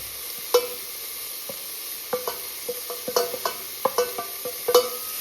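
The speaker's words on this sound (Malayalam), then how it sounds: "ഇതൊന്ന് വഴറ്റി വെക്കാം ഒന്ന് വഴന്നാൽ മതി" Onions sautéing in a pan with salt, turmeric, chilli, pepper and garam masala powders for an egg curry, with a soft steady sizzle broken by a series of sharp spatula scrapes and taps against the pan.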